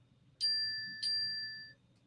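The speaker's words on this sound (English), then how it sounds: "Yes, that was my phone ding-dinging." Two clear electronic ding tones from a smartphone notification, struck about half a second apart, each ringing on with a bright sustained chime over quiet room hum.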